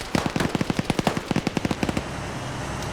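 Rapid bursts of video game gunfire during an attempted headshot, about twenty sharp evenly spaced shots over two seconds, loud and close, then cutting off into quieter background ambience.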